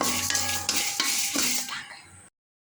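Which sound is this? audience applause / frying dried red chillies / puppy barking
frying dried red chillies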